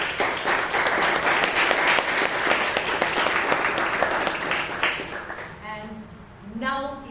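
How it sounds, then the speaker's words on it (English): Steady applause from a room of people at a Toastmasters meeting in Bangalore fills most of the stretch, then fades out near the end as a voice starts up. "let's give a big round of applause to all the speakers"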